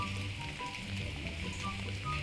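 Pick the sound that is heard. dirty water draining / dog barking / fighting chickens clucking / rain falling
rain falling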